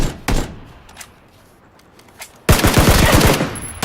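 Gunfire in a shooter video game: a single sharp shot and a few faint pops, then a loud, sustained burst of rapid automatic fire with punchy repeated cracks close up.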